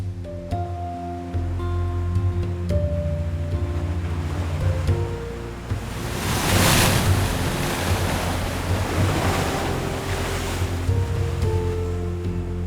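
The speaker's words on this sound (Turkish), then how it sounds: "Guelmim'de de dalgalar muazzam bir güçle kayalara çarpıyor." Ocean waves crash against rocks on the Guelmim coast in Morocco, producing a loud, continuous roar and a larger surge midway, with low tonal music running underneath.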